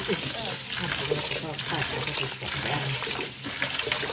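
Tap water runs and splashes steadily as rice and wheat are washed for village-style Mangalorean appa, a continuous close gush with no speech.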